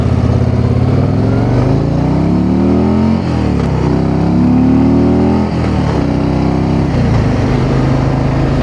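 A Harley-Davidson CVO Road Glide ridden in performance mode gives a steady, loud engine drone from the rider's position, rising and falling in pitch through gear changes, with wind noise behind it.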